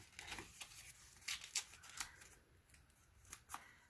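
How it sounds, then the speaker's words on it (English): Adhesive tape pulled and pressed onto a decorated toilet paper tube for a craft binocular project, giving soft, scattered crackly strips and taps at close range with no talking. "Now I use a bit of tape to hold it into place here."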